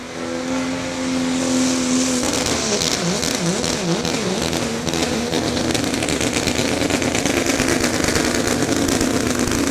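Diesel truck roaring under heavy load during a truck and tractor pull competition at a steam threshers festival, a loud sustained engine note that wavers and surges in pitch early on, then holds a dense, constant full-throttle roar throughout.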